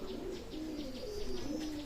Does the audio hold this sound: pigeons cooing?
yes